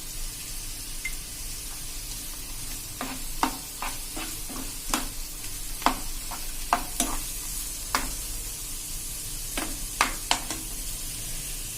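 Curry leaves dropped into hot oil for a Gujarati curd curry, a bright crackling sizzle over steady frying hiss, sharp pops and spatters scattered through, close and moderately loud, no talking.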